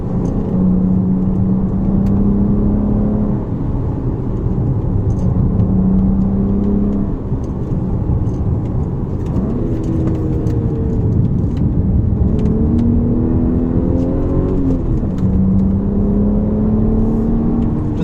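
A 2009 BMW 135i driving, its engine loud and close throughout with repeated rising revs and shifts between gears, a continuous whirring drone and no talking.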